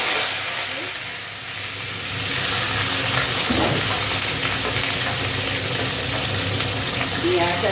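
Onion frying in oil tempered with nigella seeds, a loud continuous sizzle with some stirring and a brief bubbling swell partway through, no speech heard.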